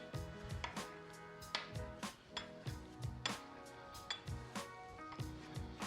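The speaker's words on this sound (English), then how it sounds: "So now I'm gonna cut it into about 3/4 inch pieces." A knife cuts a rolled rope of gnocchi dough into pieces on a board, making a quiet run of soft, fairly regular taps and clinks, heard close with no talk.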